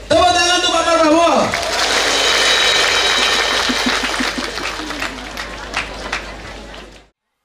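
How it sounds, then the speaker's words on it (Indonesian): Audience at a large open house event breaks into broad, sustained applause for Prabowo Subianto. The clapping follows a loud amplified voice and continues for several seconds before stopping abruptly. "Tepuk tangan untuk Pak Prabowo"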